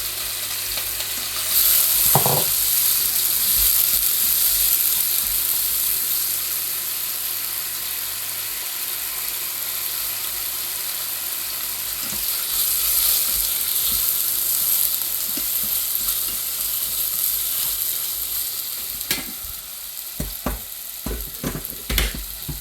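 Tofu fries in a pan with a continuous loud sizzle and hiss, with occasional stirring scrapes and a few clicks near the end.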